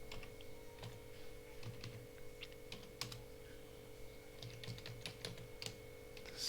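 Keystrokes on a computer keyboard typing C code for a series program, with irregular light clicks and taps over a low steady electrical hum.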